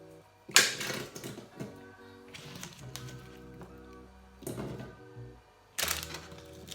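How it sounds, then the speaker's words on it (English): Celery stalks drop into a blender jar holding a little water, giving a few separate hard thunks and clatters spaced out with quiet gaps between them. "And then I'll add my celeries."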